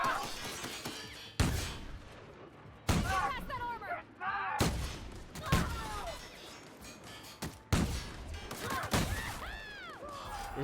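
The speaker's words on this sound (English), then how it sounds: "I'm gonna use a tactical shotgun." A tactical shotgun fires in the video game The Outer Worlds, with five or six loud, booming blasts spaced a couple of seconds apart, each trailed by ringing, sweeping game effects and some talk between shots.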